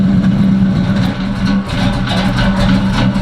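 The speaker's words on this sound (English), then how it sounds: "Listen to the chop" Box Chevy V8 with a chopping cam idles in drive, its loud, lumpy, uneven lope pulsing close up, with no talk over it.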